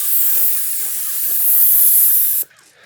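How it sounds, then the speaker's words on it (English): An airless paint spray gun with an extension sprays house siding, a loud, steady high hiss close by that runs for over two seconds before cutting off abruptly, leaving faint background noise. "spraying my siding"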